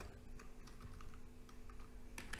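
Code being typed on a computer keyboard: a short run of quick, light key clicks in an uneven rhythm, close by and fairly quiet, with no talk.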